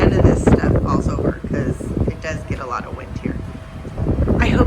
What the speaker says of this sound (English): It's getting so windy.